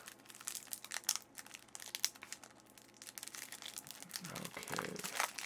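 Scissors cutting open the plastic wrapping of a KeyForge card deck, with close, irregular crinkling and tearing of packaging that grows busier toward the end.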